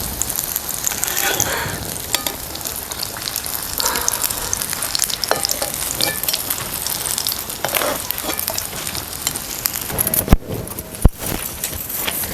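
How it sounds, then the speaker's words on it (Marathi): Green chillies and ridge gourd fritters sizzle steadily in hot oil, with a continuous crackling hiss, occasional stirring clinks and sharp pops near the end. "हे बघा तळल्या मिरच्या."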